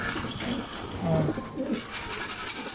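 Racing pigeons coo nearby in low, throaty bursts over a busy outdoor background.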